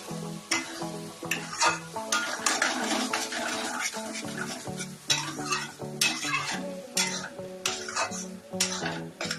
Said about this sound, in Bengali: তো এবার আমি পোস্ত দিয়ে